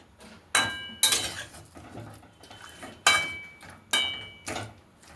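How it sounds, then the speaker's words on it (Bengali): Ingredients are stirred together in a pot, a utensil knocking and scraping against the metal in a handful of sharp, separate clanks with quiet gaps between them. "এই সব নেড়ে দিচ্ছি একসঙ্গে"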